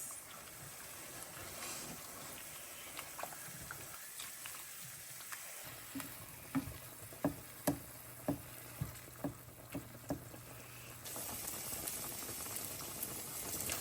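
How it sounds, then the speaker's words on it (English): Mac and cheese sauce with black pepper simmers on the stove with a faint bubbling undertone, while a run of sharp, evenly spaced taps and scrapes from stirring stands out in the middle, all quiet and without talk. "let this simmer and keep on stirring until everything is melted and mixed in together"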